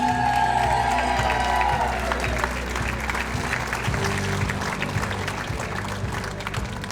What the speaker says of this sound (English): You got your own cheering section over there